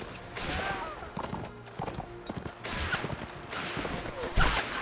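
Musket volleys crackle across a battlefield in Mount & Blade Warband's American Civil War setting, with ragged bursts of rifle fire, scattered and overlapping shots, and clustered volleys rolling at a moderate distance.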